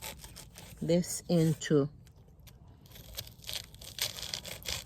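A small plantain plant being cut into pieces with a blade: a voice speaks briefly, then comes a run of rough, fibrous scraping and tearing close by that grows somewhat louder toward the end.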